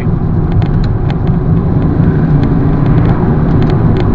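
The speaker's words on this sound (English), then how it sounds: "The only noise I'm getting in the cab is actually of the tyres on the road" Inside the cabin of a 2003 BMW 530d with a 3-litre diesel, a constant low tyre rumble from the road fills the space, steady and fairly loud with no talking.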